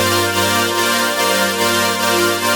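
Three layered synth chords from Serum and Nexus ring out together in a future bass production, a sustained, dense, steady chord stack with slight rhythmic swells, loud and alone without any talk.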